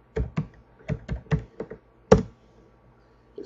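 Keystrokes on a computer keyboard as a folder name is typed into project-management software: about ten distinct, close taps in uneven bursts, one heavier final press, then quiet. No talking.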